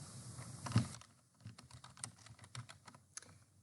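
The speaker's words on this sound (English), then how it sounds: "you're going to type in your name here" Keys clatter on a computer keyboard while a name is typed into a memo template, a quick run of close, crisp clicks with a couple of louder presses and short pauses between bursts.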